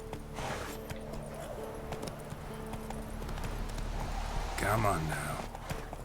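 Roach's hooves clip-clop in a steady rhythm in The Witcher 3 on PC, with someone talking over the footfalls and a louder burst of sound near the end.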